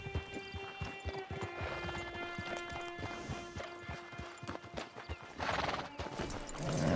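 Hooves clip-clop in a quick, steady rhythm as a horse trots in Red Dead Redemption 2, with a soft tonal bed beneath. A loud whinny bursts out close by near the end.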